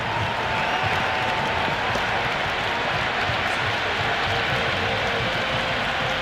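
A large stadium crowd in the Cricket 26 video game at a Sydney match applauds and cheers in a steady, dense roar that holds at full level from start to finish.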